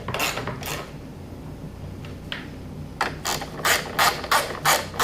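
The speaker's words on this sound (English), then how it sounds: "Once you have all four of your 8s started by hand, just go ahead and tighten them down." Metal bolts on a Triumph Tiger 800 being tightened down while a Uni air filter is installed, giving a run of close, crisp ratchet clicks in quick bursts, with a short pause in the middle.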